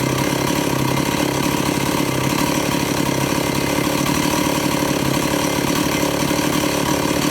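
A restored Stihl 038 Magnum chainsaw fitted with a Tillotson carburetor runs steadily on its own, a continuous buzzing two-stroke drone held at an even, fairly loud level throughout.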